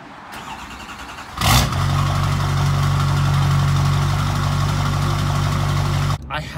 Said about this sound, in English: we're gonna do the first startup of the LB7 Duramax 5-inch straight pipe